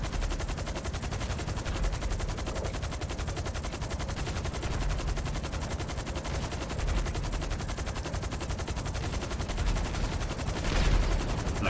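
Sustained, dense automatic gunfire in the video game GTA Online during a Gunrunning resupply mission, a relentless rapid stream of shots at a steady level throughout with no voice.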